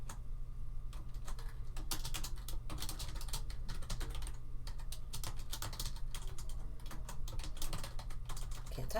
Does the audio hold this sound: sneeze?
no